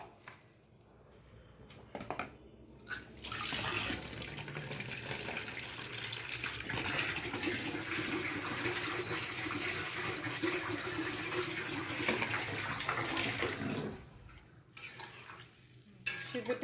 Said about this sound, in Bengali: এই যে জলটা দিয়ে দিলাম, আর একটু জল লাগবে